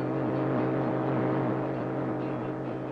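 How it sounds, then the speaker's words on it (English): Soviet radio jamming aimed at Radio Free Europe broadcasts: a dense, steady droning roar with a warbling, wavering tone layered through it, loud and continuous for the whole stretch with no voices. "It is the sound of jamming."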